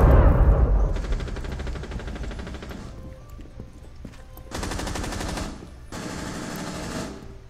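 Rainbow Six Siege gunfire crackles in rapid automatic bursts, a heavy shot up front and then three long sustained strings of fire separated by quieter gaps.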